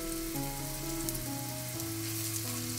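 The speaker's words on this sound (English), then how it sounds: "The dangar are thick and we are not deep frying, so you must make sure that they are cooked on the sides too." Thick prawn dangar shallow-fry in a pan with a steady, even sizzle and crackle, a constant close hiss with background music tones underneath.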